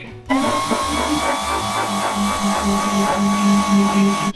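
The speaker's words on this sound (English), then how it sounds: "So I'm gonna do a little bit more grinding." A power grinder working metal on a wrecked car with a 1,000 HP LS engine swap, a loud continuous close whine with a droning, fluctuating low rumble that runs almost unbroken.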